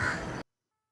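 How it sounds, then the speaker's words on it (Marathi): A house crow gives a single short, harsh caw close by, lasting under half a second before it cuts off into silence. "तसंच आपल्या खिडकीजवळ येऊन कावळा ओरडतोय"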